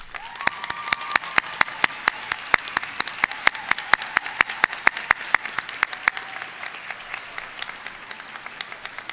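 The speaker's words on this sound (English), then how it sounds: "allow us to honor them with applause at this time" Graduation ceremony audience applauding graduates' spouses and children, steady crowd clapping with sharp individual claps standing out, moderately distant and continuous.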